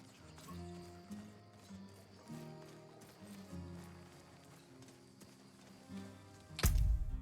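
Video game horse hooves clip-clop in a soft, repeating rhythm beneath low music, ending with a sudden louder burst of sound.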